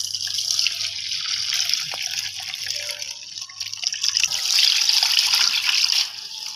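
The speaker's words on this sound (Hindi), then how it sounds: "ये लेदा बर्तन में निकाल लेते हैं पानी।" Water splashes and trickles into a cooking pot in a home kitchen while rice is being prepared, a close, steady pouring stream that grows fuller toward the end.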